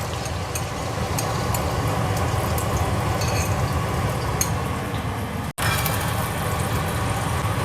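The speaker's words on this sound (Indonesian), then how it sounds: "Ini aku goreng endok." An egg frying in a pan gives off a steady, close sizzle that runs throughout, broken by one brief dropout near the end.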